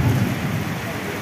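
Rain pours down steadily during a thunderstorm, a dense hiss with a deep rumble swelling at the start, close and continuous.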